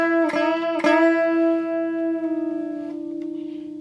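A blues lead line on electric guitar: two picked unison-bend attacks ring into a long sustained note, which is released downward and ends with gentle wavering vibrato, played alone and fairly loud.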